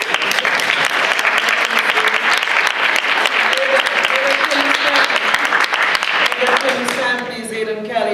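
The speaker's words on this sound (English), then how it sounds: "Give Donna a round of applause." Sustained audience applause at a conversation event, loud and dense clapping from a large crowd that carries through, with a voice briefly heard near the end as it tapers.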